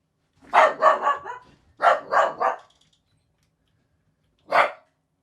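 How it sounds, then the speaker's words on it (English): A dog barks indoors in three quick sharp barks, then another run of three, and after a pause a single final bark, each close and loud against a quiet background. "Dog's barking."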